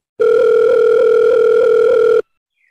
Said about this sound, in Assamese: মাত্ৰ ফোন এটা কৰিব লাগে মাত্ৰ গম পাই যাম ৰবি